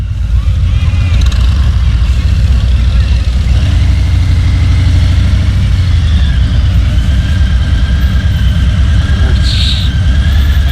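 Bagger motorcycles idle at a street bike night on Clematis Street, giving a loud, continuous, close low engine rumble with faint squeals on top and indistinct voices mixed in.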